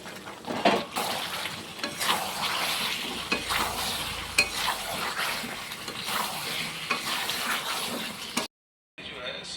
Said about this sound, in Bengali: এবারে ভেজে রাখা আলুগুলো দিয়ে আরও কিছুক্ষণ নাড়াচাড়া করে কষিয়ে নেব।